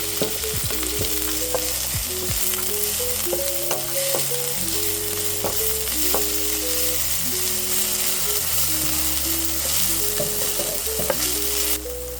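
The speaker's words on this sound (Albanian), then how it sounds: "Vaji është ngrohur, do të hedhim qepin." Onions sizzle in heated olive oil in a pan for a Albanian baked potato and spinach dish, a steady, close, dense frying hiss that runs without a break, with faint tonal notes beneath it.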